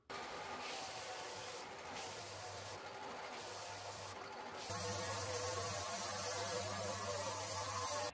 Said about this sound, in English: so I put the 60 grit onto the sander